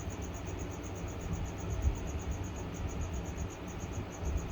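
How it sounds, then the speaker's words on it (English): Baby feeder crickets chirp in a steady, fast pulsing trill, kept as food for tarantulas and reptiles; the close, continuous chirping runs without pause over a low background hum, with no voices. "I gotta find some baby crickets for Echo"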